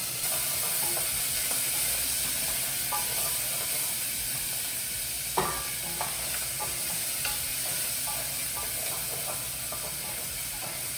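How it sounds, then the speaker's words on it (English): Two strips of bacon frying in a pan while being browned, a steady close sizzle and hiss with occasional stirring clicks and one sharp knock midway. "We're going to try to get some color on the bacon."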